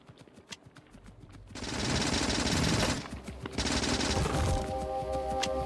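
A player's gun in Factorio firing at biters, rapid automatic bursts that rattle on in two long, loud stretches after a quieter patter of ticking and clicks.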